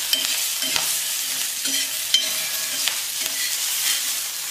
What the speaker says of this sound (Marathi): मिरच्या फुटत्यात त्या